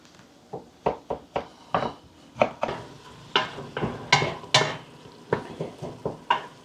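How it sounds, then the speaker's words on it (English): A spatula repeatedly scrapes and stirs ground beef browning in a pan, making a steady series of sharp scraping strokes with a soft sizzle under them, close and fairly loud. "It's browning up pretty good."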